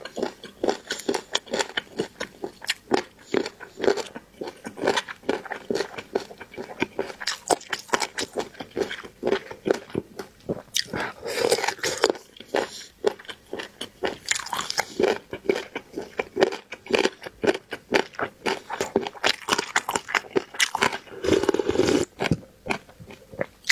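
Close, crisp biting, crunching and chewing at a mukbang-style eating table with chicken leg in sauce, noodle soup, steamed fish and roast dishes, a continuous irregular stream of bites and mouth sounds with no talking.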